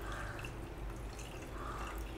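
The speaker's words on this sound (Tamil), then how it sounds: "இப்போ வந்து இந்த தண்ணி வந்து நம்ம ஊற்றிட்டு" Water being poured during cooking of an arai keerai tamarind gravy, a faint, steady trickling and splashing that runs without pause throughout.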